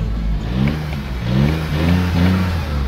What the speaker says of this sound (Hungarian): onnan a motortértől hallottuk, hogy teljesen szépen és normálisan jár benne a motor